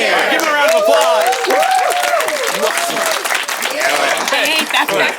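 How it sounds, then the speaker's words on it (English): A live audience bursts into loud, sustained applause mixed with cheers and whoops, dense clapping that holds for several seconds before easing slightly. "Give him a round of applause"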